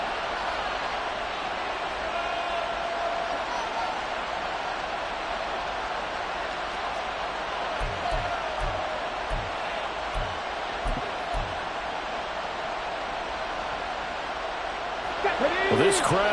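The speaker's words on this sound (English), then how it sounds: "this crowd trying to force a false start here" A loud, steady roar from a football stadium crowd at a Texans game swells to pressure the offense into a false start, filling the whole stretch beneath a commentator's voice.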